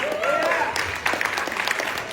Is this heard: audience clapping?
yes